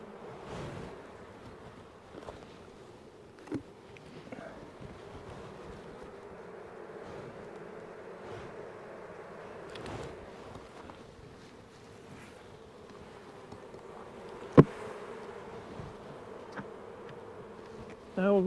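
Honeybees buzz around an open hive during a mite check, a soft, steady droning swarm with scattered brief knocks and one sharp click, faint and continuous with no talk.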